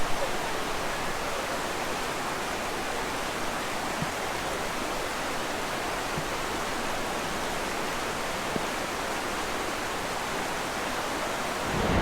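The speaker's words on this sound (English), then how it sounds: "It's real loud in here, but right around this corner, inside this cave, is a double waterfall." A loud double waterfall roaring inside a Colorado mountain cave, a dense, constant wash of rushing water filling the space without a break, no voices heard.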